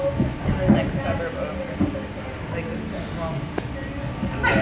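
Steady rumble and rattle from inside a moving train, with faint clicks and squeaks from the wheels and voices murmuring in the carriage.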